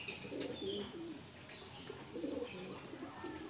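Pigeons of the Kotashi fulsira mundi breed coo softly in low, rolling bursts across the whole stretch, with a few faint chirps and steady background hiss.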